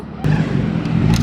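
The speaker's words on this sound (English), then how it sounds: "your back wheel's spinning" A BMW M3 with its back wheel spinning, the engine roaring loud and close in a sustained rev with a brief rise in pitch.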